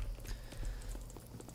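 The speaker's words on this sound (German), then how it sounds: "Also da sind unsere Pferde." Horse hooves clip-clop in the Expeditions: Rome video game, a quick irregular run of soft thuds at moderate distance under a low background hum, with no talking.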